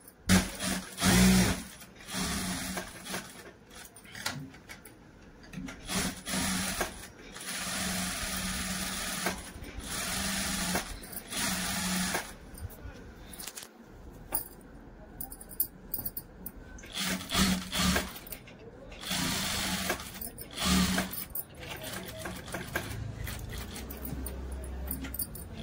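A sewing machine stitches puff sleeves for a blouse in a tailoring setup, running in repeated bursts of fast whirring with short pauses between seams, close and fairly loud, with no talking.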